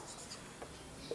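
A pencil writes on paper during a lesson, giving faint, short scratchy strokes in a quiet room.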